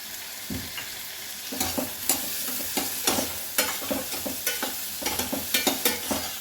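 Crushed garlic and curry leaves sizzle and crackle in hot oil in a pan with onions, a steady frying hiss broken by sharp spattering pops that come closer together as the clip goes on.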